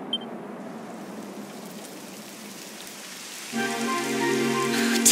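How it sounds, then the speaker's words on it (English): Rain falling in the Dragon Quest XI video game, a soft steady patter on surfaces that grows denser, joined near the end by a louder layered tonal swell. "It would have to go and start raining, wouldn't it?"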